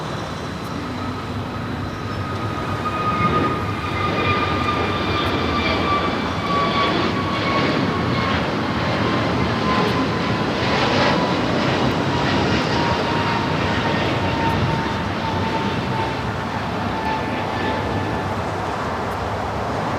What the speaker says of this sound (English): So do have that American A321neo heading to Dallas, Fort Worth, Texas.